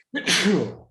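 A single close, loud sneeze bursts out with a sharp onset and trails off over about a second, with no other sound around it.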